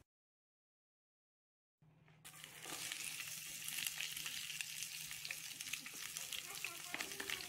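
Oil heating in a frying pan for seasoning a salsa starts sizzling after a short silence, a steady, close crackling fry that holds evenly to the end with a faint low hum beneath.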